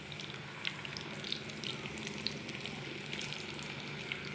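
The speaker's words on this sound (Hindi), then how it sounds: "अब हम इनको कर लेते हैं डीप फ्राई।" Potato samosas deep frying in hot oil give a steady, close sizzle with scattered small pops and crackles, heard alone without talk.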